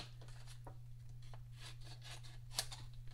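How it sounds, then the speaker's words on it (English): Scissors snip through paper card stock to trim a birthday card, a series of faint, quick cutting strokes close up over a steady low electrical hum. "I'm going to cut this down just a little bit so it can fit"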